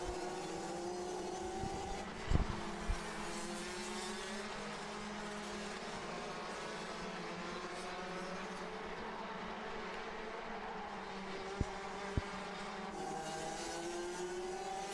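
DD2 class racing karts running on a circuit in a Champions Winter Trophy super heat, giving a steady, continuous engine drone at moderate distance with a couple of brief sharp peaks and no talk.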